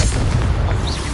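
The Confringo fire spell in Hogwarts Legacy bursts into a loud, dense boom with a rumbling, sustained roar close by.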